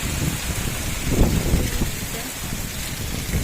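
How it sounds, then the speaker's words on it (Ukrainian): Heavy rain pours down in a steady dense hiss with a few heavier splashes, close by and continuous, with no speech during the stretch. "то нема дощу, то заливає. Просто заливає"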